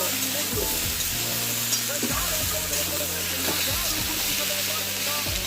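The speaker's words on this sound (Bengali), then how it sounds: "এটাকে একটুখানি হালকা করে ভাজবে।" Pumpkin pieces fry lightly in a pan, giving a loud, continuous hissing sizzle with periodic soft scrapes of stirring throughout.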